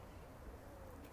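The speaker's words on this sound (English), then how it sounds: "You can hear the little birds singing because it's spring." Small songbirds chirp faintly in a spring city park in Barcelona, thin calls scattered over a steady low outdoor hum with occasional soft pigeon coos.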